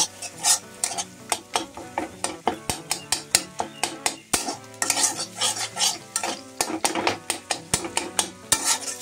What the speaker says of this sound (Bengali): এবার ডিম দুটোকে বেশ সুন্দর করে ভেজে নেব, ভুজিয়ার মতো করে ডিমগুলিকে কিন্তু ভেজে নেব।